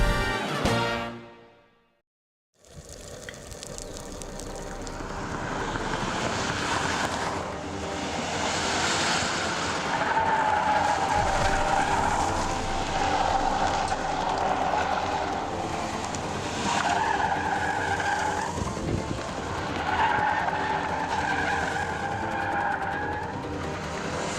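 Car driving fast on a road during a speed test, engine roaring steadily with rushing wind and tyre noise after a brief near-silent gap at the start, the pitch rising and falling with acceleration.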